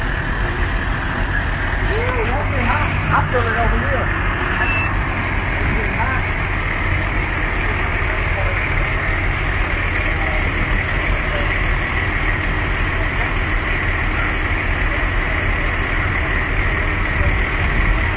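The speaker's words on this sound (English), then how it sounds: "Fire trucks, as you can see," Fire trucks arrive and idle outside a burning historic railroad station on North Union Street, a steady broadband engine rumble filling the scene throughout, with someone talking over it near the start.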